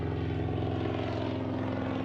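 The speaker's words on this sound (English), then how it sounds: "You're tacking the airplane back and forth and you taxi it." A Cessna 195 propeller airplane taxiing, its radial engine giving a steady, loud, throbbing drone with a pulsing propeller beat that holds even throughout.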